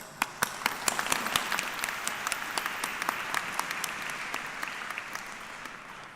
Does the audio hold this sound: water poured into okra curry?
no